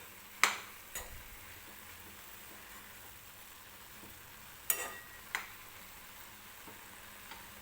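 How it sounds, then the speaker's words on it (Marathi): A spoon knocks against a pan a few times, sharp and isolated, as a beetroot laddu mixture with dry fruits is stirred, with a faint sizzle running quietly underneath. "मिक्स करून घ्यायचं व्यवस्थित."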